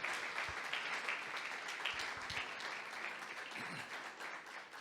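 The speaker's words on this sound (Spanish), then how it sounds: "Démosle ese aplauso fuerte de gloria, de honra, de alabanza al Señor." A church congregation gives a loud, sustained round of applause in praise during an Easter resurrection service, dense clapping filling the room steadily from start to finish.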